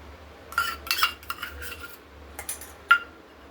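A spoon clinks and scrapes against a pot as whisked curd is stirred into milk to set homemade curd, giving a few sparse, light metallic taps at close range.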